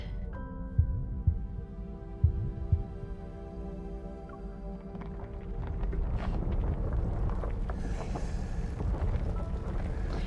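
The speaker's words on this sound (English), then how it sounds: "Heartbeat." A heartbeat sound effect with soft, low thumps in an irregular pulse, faint beneath a sustained tonal drone that later gives way to a denser, rumbling wash.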